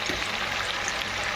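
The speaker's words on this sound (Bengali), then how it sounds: "চিকেনটা একটা কড়াইতে ভাজা হচ্ছে" Chicken fries in a kadai, giving a continuous close sizzle and crackle of hot oil with faint stirring underneath, steady throughout.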